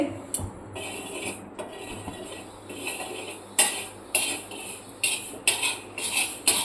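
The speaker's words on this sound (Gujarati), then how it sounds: "આપણે તવીમાં મેથીના દાણા શાકવા શેકવાના છે" Fenugreek seeds being roasted in a tava pan for fenugreek coffee: repeated close metallic clinks and scrapes of a utensil against the pan, growing into a brisk rhythmic stirring beat over a faint low hum.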